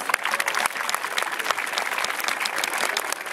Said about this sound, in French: alors on peut applaudir très fort